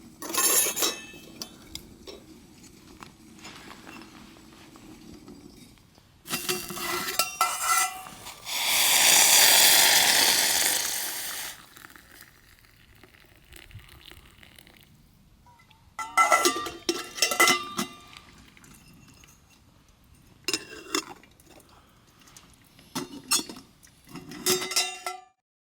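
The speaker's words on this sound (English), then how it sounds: "Item number 2, the Vietnamese coffee filter." A metal Vietnamese coffee filter is handled close by, giving bursts of light clinks and rattles between quiet pauses. A long hissing rush runs in the middle, and nobody talks.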